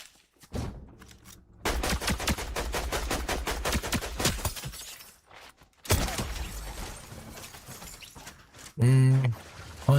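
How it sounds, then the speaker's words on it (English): Rapid bursts of gunfire from a hunting rifle in a squad shooter video game, sharp repeated reports in clustered volleys with quiet gaps, loud and close, with brief speech and game sounds mixed in. "Hunting rifle, probably"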